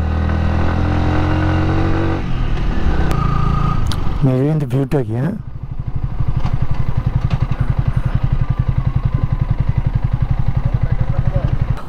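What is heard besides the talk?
motorcycle engine while riding on a mountain road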